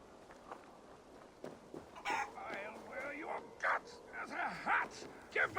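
In the video game Assassin's Creed Valhalla, a chicken or rooster clucks and squawks in a run of short, irregular calls that grow louder toward the end, with game speech mixed in.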